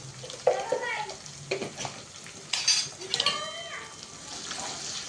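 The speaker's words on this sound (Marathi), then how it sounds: "मस्त मसाले फ्राय करून घेऊ" Ground coriander, red chilli powder, chillies and turmeric fry in a pan for dhaba-style dal tadka, giving a quiet sizzle with scattered spoon clinks and stirring scrapes while someone talks softly.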